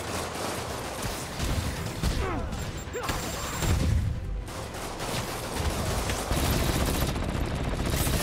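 Bursts of gunfire from the Spider-Man: Turf Wars video game crackle over dense, busy game noise, with heavier booming thumps in the middle of the stretch.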